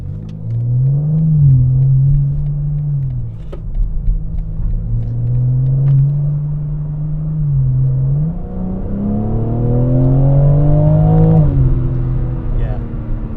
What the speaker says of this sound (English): put everything into its sport mode, turn on the M exhaust, and see how it does on some back roads.